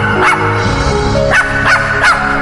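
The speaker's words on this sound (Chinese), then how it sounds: "突然从黑暗中传来的狗叫声印证了我刚才的确没有看错" A small white dog in a pitch-dark corridor gives four short, sharp yaps, spaced irregularly over a constant low background hum.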